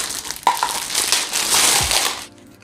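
A knife slices and tears through the plastic packaging of a headphone box, giving a dense crinkling, crunching rasp that runs for about two seconds before ending abruptly.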